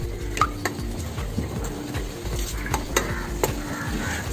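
Liver tonic being mixed by hand into goat feed, a close repeated scraping and stirring rhythm with a few sharp taps and clinks, steady throughout and free of speech.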